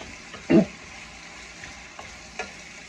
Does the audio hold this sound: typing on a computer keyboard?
no